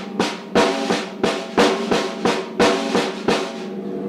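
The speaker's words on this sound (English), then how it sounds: "That's 1 bar of 8 note triplets" Drum kit playing one bar of eighth-note triplets with alternating single-stroke sticking, a dozen crisp evenly spaced hits in a steady rolling rhythm, loud and close, ending with a short decay.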